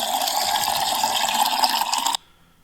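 A water element pickup effect from a video game makes a splashy, rushing watery burst. It stays loud and even for about two seconds, then cuts off sharply into near silence.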